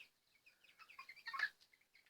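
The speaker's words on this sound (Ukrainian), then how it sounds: "А це курочки, яких Оліна купила." Chickens cluck and chirp softly nearby in a quiet village yard, a string of short, scattered calls with one louder squawk in the middle.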